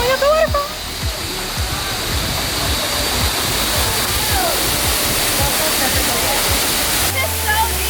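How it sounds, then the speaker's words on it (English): Seven Wells waterfall in Langkawi, Malaysia roars in a loud, continuous rush of falling water, with voices and splashes faintly heard over the steady wash. "Going up the waterfall."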